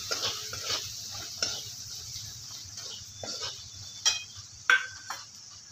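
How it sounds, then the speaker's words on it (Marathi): A mixture of spices and coconut filling is stirred and mashed together in a bowl, producing close, soft scraping strokes in an uneven rhythm, with a couple of sharper clinks of the spoon. "हे मिश्रण एकजीव करून घेणार आहे."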